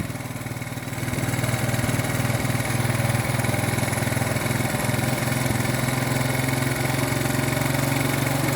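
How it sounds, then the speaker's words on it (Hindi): A small 70cc motorcycle engine fitted with an HHO fuel-saver kit runs steadily and close by, its note rising a little as the throttle is slowly opened, with a continuous low engine drone and no talk. "अब हम ओपन कर रहे हैं, और आहिस्ता आहिस्ता आप आवाज़ से महसूस कर रहे होंगे कि इसकी एक्सेलरेशन बढ़ रही है।"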